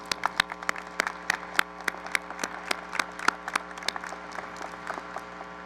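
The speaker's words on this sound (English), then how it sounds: "Please give me a round of applause for this distinguished guest." Sparse applause from a seated audience greeting a distinguished guest at a school ceremony, a scattering of distinct hand claps with a steady hum beneath.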